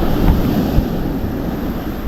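Strong wind roars steadily across open sea, a constant low rumble of buffeting gusts mixed with surf wash, loud and unbroken with no voices.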